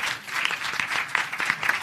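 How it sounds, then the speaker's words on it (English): An audience at a leadership summit applauds to celebrate young people, a brief, dense wash of many hands clapping at moderate distance, steady throughout with no speech over it. "So let's give them a round of applause."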